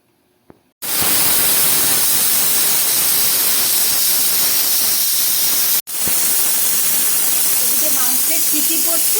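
Loud, steady hissing of steam venting from a pressure cooker with meat cooking inside, a continuous broadband rush that breaks off briefly midway and then resumes just as strong.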